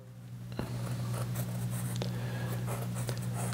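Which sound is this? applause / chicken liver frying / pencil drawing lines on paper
pencil drawing lines on paper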